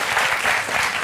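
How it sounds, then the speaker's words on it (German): A short burst of dense studio audience clapping on a German TV cooking show, even and loud throughout. "Ein Applaus für den Kartoffelteig."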